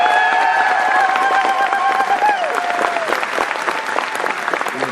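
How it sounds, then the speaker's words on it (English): A convention crowd at an opening ceremony applauds loudly and continuously, dense clapping filling the hall with a few cheers and brief whistles early on. "Everybody, big round of applause, Mr. Ben Diskin."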